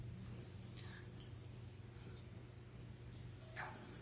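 Pencil drawing a portrait on paper, a soft scratchy scribbling in short strokes with pauses, close and quiet over a low background hum, with no speech.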